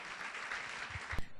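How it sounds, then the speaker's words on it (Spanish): A church congregation at a Bible study applauds for the Lord with soft, continuous clapping that sounds somewhat distant and ends in a sharp knock. "Démosle un fuerte aplauso al Señor"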